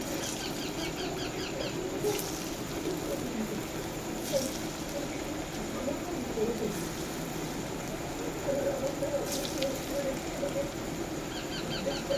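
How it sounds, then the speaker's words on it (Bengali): Sweet potato pieces frying in hot oil, giving a steady, even crackle and sizzle throughout, close and moderately loud, with a few faint clinks on top. "তেলটা আমার গরম হয়ে গেছে এগুলো দিয়ে দেবো এক করে"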